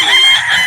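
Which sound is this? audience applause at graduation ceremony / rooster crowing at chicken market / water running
rooster crowing at chicken market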